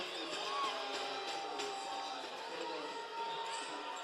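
Crowd at a men's college basketball game reacting to a foul call, a broad steady murmur of voices with scattered shouts and whoops, fairly loud and continuous throughout.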